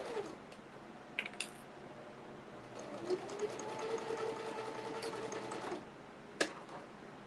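A home sewing machine stitches a child's purse, running in a steady mechanical hum for several seconds with a few sharp clicks and taps around it, quiet and close, no talking.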